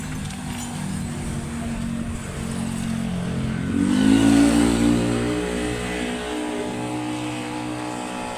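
A bus engine drawing near, its rumble swelling and rising in pitch mid-clip before settling to a steady drone, close and loud.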